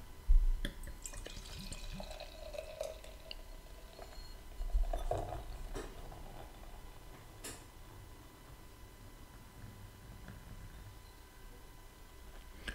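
XX Bitter pale ale beer pours from a bottle into a glass, a soft continuous trickle with gurgling bursts and drips, quiet and close, with no talking.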